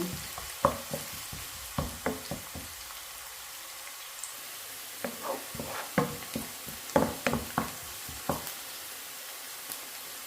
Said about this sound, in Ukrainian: і жарю її до світло золотистого кольору